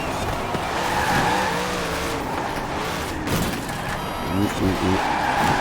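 A Chevrolet Corvette C8 Stingray races in Forza Horizon 4, engine droning with tire squeal and skids, while someone talks over it.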